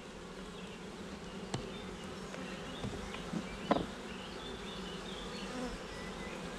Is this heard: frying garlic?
no